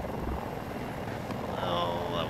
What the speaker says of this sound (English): It's an attack helicopter